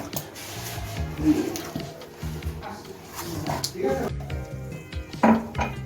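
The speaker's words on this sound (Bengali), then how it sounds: "এখানে আমি ব্যাটারটা গুলে নিচ্ছি অল্প অল্প করে জল দিয়ে" Pitha batter for beetroot patishapta being mixed in a bowl with lukewarm water added bit by bit, repeated spoon clinks and scrapes against the bowl, with someone talking over it.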